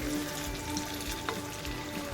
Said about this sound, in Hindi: ये देखिए खाने के लिए कुछ फ्राई कर रही हूँ मैं।